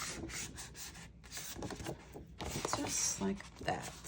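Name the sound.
folding paper along a scored line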